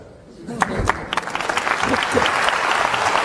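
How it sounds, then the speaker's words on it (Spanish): Audience applause at a Spanish-language talk, a voice speaking at first, then clapping rising and building into a steady, full patter from a seated crowd. "El aplauso es para Mari Carmen."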